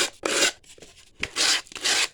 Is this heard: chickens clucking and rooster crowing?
no